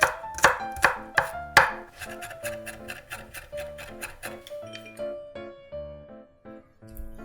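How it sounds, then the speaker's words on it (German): Knife chopping garlic cloves finely on a board for a Chinese-style green bean stir-fry: a few loud, sharp chops at the start, then a rapid, even run of lighter taps that fades toward the end. "Knoblauchzehen fein hacken."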